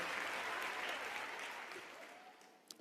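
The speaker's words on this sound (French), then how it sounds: "On applaudit très fort pour Jacques, s'il vous plaît." Audience applause at a Christian gathering fills the space, loud at first and then tapering off, with a few scattered claps near the end.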